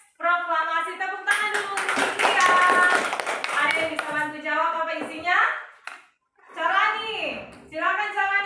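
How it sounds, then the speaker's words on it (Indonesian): A classroom of students applauds a classmate in a brief burst of scattered clapping lasting a few seconds, close by, with children's voices talking before and after. "Tepuk tangan dulu untuk Fikria."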